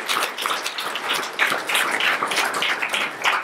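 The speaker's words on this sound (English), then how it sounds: "So one more round of applause for Elliot Hall and for Dan Aldridge." Audience applause fills a community talk event in Detroit, dense steady clapping from a crowd lasting throughout, fairly close and loud, with no voices on top.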